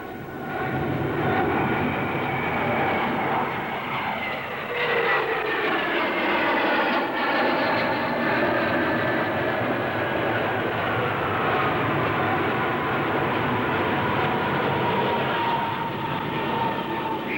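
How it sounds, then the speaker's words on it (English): A Vickers VC-10 jet airliner with four rear-mounted Conway engines passes at the Farnborough air show, a loud sustained roar with high whining engine tones that slide downward in pitch as it goes by. "With 4 rear-mounted Conway engines, the VC-10 will carry up to 150 passengers over intercontinental routes"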